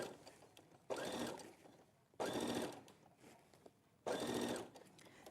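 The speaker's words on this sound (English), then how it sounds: "So you're just doing a little bit of matching and sewing a few stitches and then moving round." A sewing machine stitches fabric pieces together in three short, separate bursts of rapid mechanical whirring. Quiet handling noise and pauses fall between each run of stitches.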